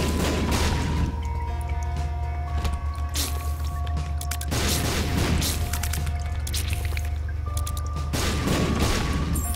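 Bombs explode in The Binding of Isaac: Afterbirth, heavy booms and crashing blasts bursting at intervals over a steady low game drone and musical tones.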